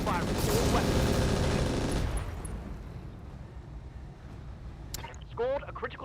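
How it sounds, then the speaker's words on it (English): Machine gun fire from the Firestarter in the video game Brigador, a loud dense burst of rapid shots at the start that fades into rumbling, followed by sparse sharp impacts and a few clipped electronic sounds. "Firing all weapons."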